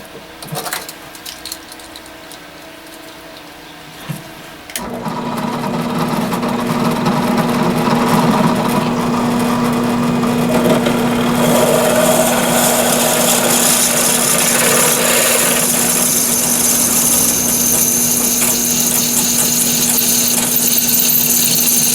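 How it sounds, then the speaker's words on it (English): A few faint handling knocks, then a drill press with a 1/4 inch bit starts and runs with a steady motorized whine and grinding cut into brass rod, loud and continuous to the end. "we'll move to the drill press next, which I have set up with a 1/4 inch drill"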